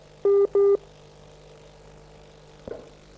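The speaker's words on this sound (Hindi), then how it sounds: "फोन कॉल डिस्कनेक्ट हो गई" Two short electronic beeps sound close together as a phone call drops, followed by a faint line hum and a brief click near the end.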